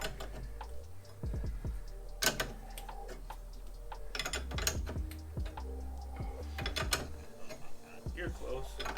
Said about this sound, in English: So keep wrenching.